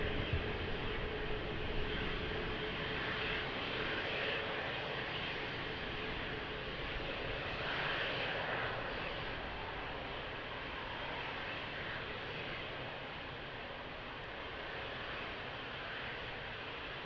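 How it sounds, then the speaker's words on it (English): An airplane touches down at Lisbon Airport on a windy day, its engines and rushing air making a sustained broad roar that holds steady and slowly eases over the whole stretch. "what a landing, what a touchdown."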